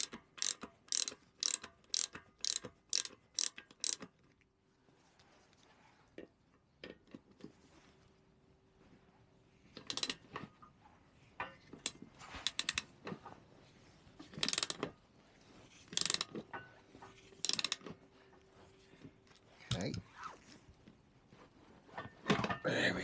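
Ratchet turning a 17 mm socket on the wheel of a Cimatti Mini Chic Italian moped, with rapid clicking bursts and scattered metallic clunks, close and fairly quiet, with no talk.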